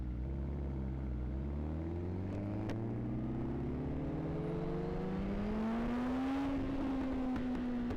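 A 1000cc inline-four motorcycle engine drones steadily while riding, its pitch climbing smoothly as it accelerates, with constant wind and road roar underneath and no talking.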